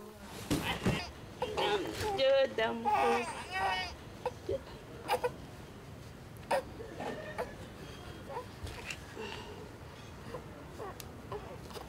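A hungry baby in Ghana fussing and crying in uneven, whimpering bursts, with an adult voice speaking over much of it.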